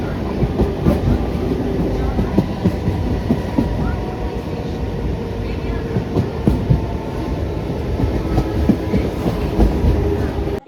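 A train rumbles through Durganagar station with a steady rolling roar and rhythmic clickety-clack of wheels over rail joints, loud and close, carrying on for several seconds with faint crowd noise mixed in.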